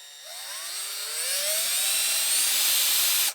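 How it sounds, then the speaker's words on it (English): A power drill spins up with a rising whine that climbs steadily in pitch as it bores into a metal car mirror on a twin-turbo BMW, then cuts off abruptly. "to fix this mirror issue, we're going to start off by actually drilling a hole right"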